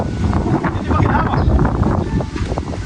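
Strong wind blowing outdoors during a family dinner gathering, a loud continuous rushing buffet with low rumbling gusts, steady throughout with faint voices mixed in.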